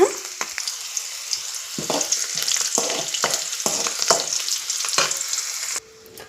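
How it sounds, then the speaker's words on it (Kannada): About twenty garlic cloves fry in hot oil in a pan for a mint chutney, giving a steady close sizzle broken by several short stirring scrapes, with no talk. "ಬೆಳ್ಳುಳ್ಳಿ ಬಂದುಬಿಟ್ಟು ಗೋಲ್ಡ್ ಕಲರ್ ಬರಬೇಕು ಅಲ್ಲಿ ತನಕ ಫ್ರೈ ಮಾಡ್ಕೊಳ್ಳೋಣ"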